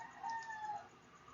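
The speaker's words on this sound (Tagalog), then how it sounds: "manok, huwag ka muna tumilaok" A rooster crows once, a clear mid-distance cock-a-doodle-doo that rises and holds for about half a second over faint background noise.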